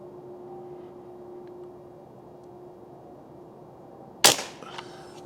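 A single sharp pump air rifle shot, from a Crosman 362 or Benjamin 392, cracks loudly near the end after a quiet outdoor stretch with a steady low hum, followed by a brief fainter report or impact.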